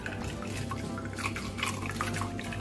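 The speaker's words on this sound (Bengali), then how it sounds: "এখন নারকেলের দুধটা আমি নারকেল থেকে বের করে নিচ্ছি" Coconut milk being squeezed by hand from ground coconut paste in a kitchen while making prawn malai curry: faint, continuous wet trickling and dripping of liquid, with no voices.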